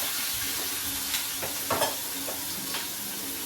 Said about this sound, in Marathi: कांदा शिजवून घेतो थोडा।